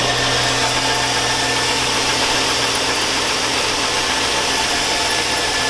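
A 2002 Chevy Avalanche's 5.3L V8 running cold, a loud, steady, close engine drone with a dense, even rumble and no talking.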